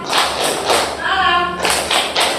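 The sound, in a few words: class clapping three times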